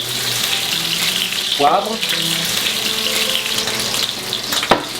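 Meat chop sizzling in olive oil in a hot pan, a steady hiss running throughout, with a short burst as the meat hits the oil and a brief clatter near the end. A voice speaks briefly over it.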